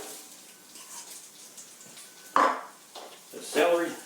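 Chopped onions going into a pan of hot oil while cooking a venison stew: a sudden sizzle and clatter, then a second burst of sizzling and stirring, fairly close and loud after a quiet stretch.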